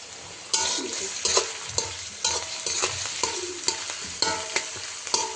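Onion and garlic frying in a pan before adding dried fish for a leafy greens stir-fry, a bright continuous sizzle with rhythmic spatula scrapes every second or so, close up with no voices.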